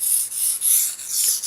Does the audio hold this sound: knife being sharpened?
yes